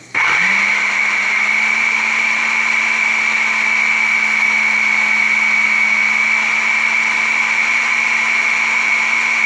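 A countertop blender switches on and runs steadily, whirring loudly and evenly at a constant high pitch while it purees vegetarian queso thickened with cornstarch.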